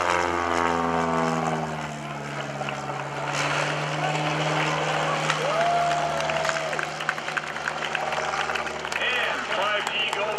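A stock Cessna 172 with a quick release tail hook, towing a banner at an airshow, drones with a steady propeller engine hum throughout, while a voice talks over it on a public address system.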